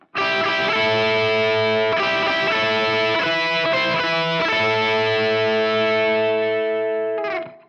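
A distorted electric guitar plays a short guitar-solo lick of several sustained, bending notes with a heavy effected tone, ending with a final struck note that resolves on an open string.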